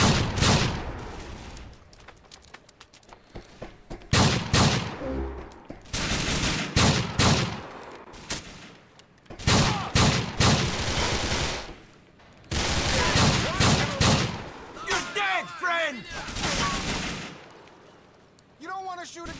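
Bursts of rapid gunfire from a Grand Theft Auto IV shootout on PS3, volleys starting and stopping in clusters with short gaps between, loud and close, with talk heard between the bursts.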